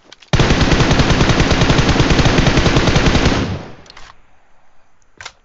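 A long, rapid burst of automatic gunfire in the mobile game PUBG Mobile, loud and close, sustaining for about three seconds before cutting off, followed by a couple of faint, distant clicks.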